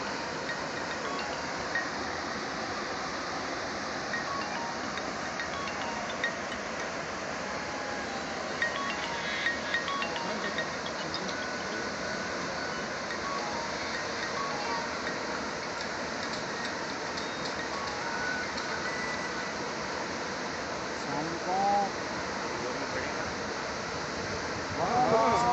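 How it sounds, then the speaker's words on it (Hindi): Water rushing from the opened spillway of Khanpur Dam, a steady broad roar that holds at an even level throughout with no break. "स्पेलवेज खुलने का नज़ारा।"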